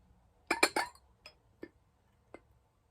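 A green Imperial Glass candy dish with some chipping, handled: a quick cluster of three bright glassy clinks, then a few lighter, spaced ticks, close and clear against quiet.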